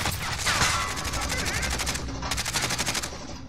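Rapid automatic gunfire from Call of Duty Warzone, dense repeated bursts of shots running throughout, loud and close with a short pause near the end before firing resumes.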